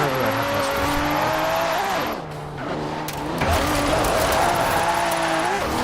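Turbocharged car engine in the racing game Forza Horizon 4, loud and close, revving up through the gears with rising pitch, briefly dropping off before climbing again, with some tire squeal.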